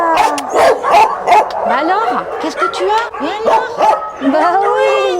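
A shelter dog behind a gate barks and yips repeatedly in close, loud bursts, while people talk over the barking throughout.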